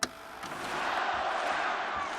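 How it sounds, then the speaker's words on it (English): A boxing home crowd cheering, rising into a broad, sustained roar after a sharp opening thump. The noise swells steadily and stays loud and dense throughout. "Listen to the home crowd now really get behind him."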